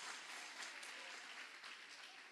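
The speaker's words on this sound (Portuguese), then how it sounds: "Pode aplaudir bem forte ao Rei dos Reis e ao Senhor dos Senhores." Church congregation clapping loudly during a Brazilian sermon, a dense, continuous ovation from a large crowd heard at a distance.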